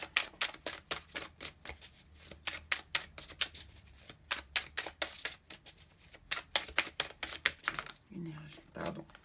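Tarot cards being handled, shuffled and drawn during a reading, a rapid run of crisp flicking and slapping card sounds close by, with a short pause and a soft voice near the end.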